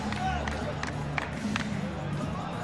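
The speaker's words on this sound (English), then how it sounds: "taking in great applause from the crowd" A crowd at an MMA event applauds and cheers a fighter, a steady arena roar with scattered claps heard under an announcer's commentary.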